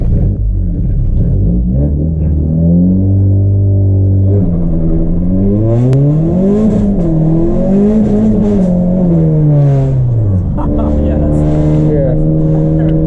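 A 2018 Honda Accord engine revs loudly up close with a failed clutch, its pitch climbing and sagging over and over as the throttle is worked without the vehicle settling.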